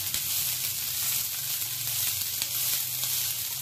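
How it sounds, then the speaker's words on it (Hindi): Green peas and onion fry in a pan as filling for a matar paratha, giving a steady, close sizzle and crackle with no talk. "और इसको भी हम भून लेंगे। इसके साथ साथ हम इसमें डाल देंगे ये मटर।"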